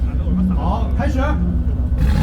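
A car engine revs hard at a rev battle, a loud continuous roar and rumble over a crowd and a shouting announcer, with rising and falling pitch.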